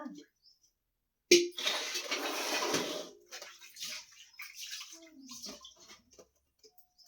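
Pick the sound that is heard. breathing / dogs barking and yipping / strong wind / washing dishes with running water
washing dishes with running water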